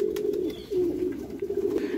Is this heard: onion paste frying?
no